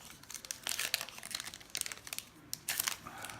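Crinkly plastic wrapper of a Magic: The Gathering War of the Spark booster pack being torn and opened, close bursts of crackling and crumpling in uneven clusters, fairly quiet with no speech.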